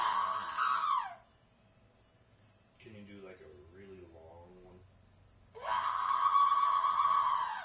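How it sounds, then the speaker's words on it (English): A person lets out loud, drawn-out screams for an amateur horror film called The Bite, one burst at the start and a longer one at the end, with quieter sounds in between. "Scream."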